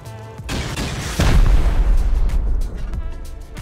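An explosive round blasts a door open in a video game, a loud close boom about a second in that trails into a rumbling wash of debris before fading, with other game noise around it.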